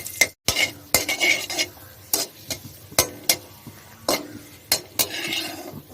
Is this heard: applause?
no